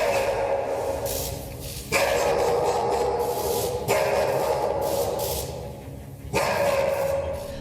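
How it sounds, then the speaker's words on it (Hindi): An Akita dog barks loudly and repeatedly at close range, with a few sharp, strong onsets and sustained barking between them. "अकीता नाम का यह कुत्ता जोर जोर से भौंकने लगा।"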